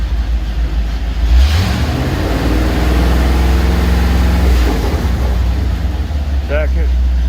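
A car engine with its automatic transmission being shifted through the gears, a steady low running drone that shifts pitch and load midway, with a faint voice briefly under it.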